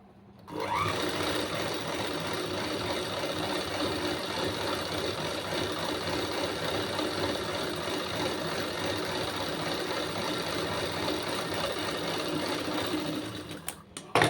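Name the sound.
sewing machine stitching blouse border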